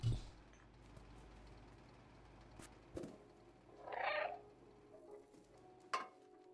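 A cat in the video game Stray makes a brief mid-range vocal call among faint, scattered game sounds and soft thumps, with no talking.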